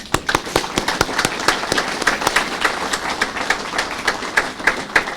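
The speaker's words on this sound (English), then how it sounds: "we'll give her a clap, yeah." Applause for a speaker from a live audience at an innovation network launch event: sharp, sparse claps scattered over a noisy crowd bed, steady and moderately loud throughout.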